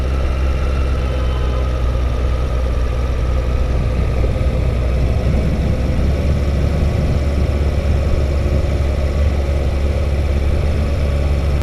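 A motorcycle engine idles steadily as the bike is backed into a parking spot on wet, sandy ground in winter rain, a constant low rumble that runs throughout with no talk.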